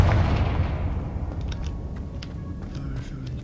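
A Confringo fire spell bursts in the Hogwarts Legacy video game, a loud booming blast that fades into a rumbling tail, with faint sparkling effects afterward.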